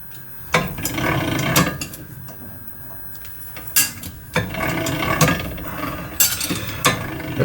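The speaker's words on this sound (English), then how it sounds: "These are only a little set of 300mm 12-inch wide rolls, but they do the job." A small set of 300 mm (12-inch) sheet metal rolls turns with a continuous mechanical grinding and whirring, broken by sharp metallic clicks and clunks at irregular moments, close and fairly loud.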